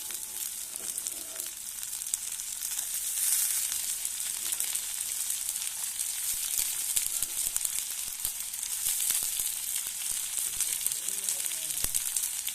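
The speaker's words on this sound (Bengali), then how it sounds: "এর মধ্যে এবার হচ্ছে ছাড়িয়ে রাখা মটরগুলো দিয়ে দেবো" Shelled peas hit a pan of nearly browned onions while cooking a fish kaliya, giving a soft, steady sizzle throughout with faint scraping and a brief quiet voice near the end.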